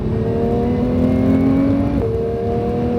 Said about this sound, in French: pied sur l'accélérateur et on va chercher à l'intérieur. Allez, on visualise et on ouvre tout de suite et on accélère